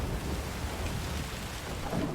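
Steady rain weather effect from the Gwent card game, a continuous soft hiss of falling water with a faint low rumble underneath, unbroken for the whole stretch and no voices present.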